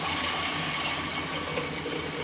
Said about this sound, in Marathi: बरंचसं पाणी टाकायचं, म्हणजे आपल्या चण्याच्या वर असं एक कांडी पाणी आलं पाहिजे